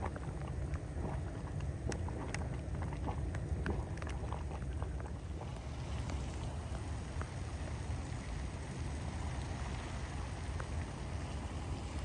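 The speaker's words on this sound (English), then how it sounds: "Well, the rain has decided to not let up." Steady rain falling outdoors at Norris Geyser Basin in Yellowstone, a dense continuous hiss with scattered close drips and patter in the first half, no voices.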